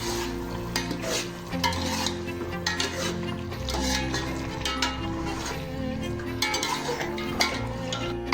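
A spoon stirs coarsely pounded spices into a pot of chicken yakhni pulao, scraping and clinking against the metal pot over a continuous frying sizzle, with irregular strokes and a low background hum.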